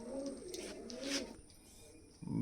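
A pigeon perched in a roadside tree gives a few soft, low coos, fairly close and clear, over quiet outdoor background with a brief thump at the end.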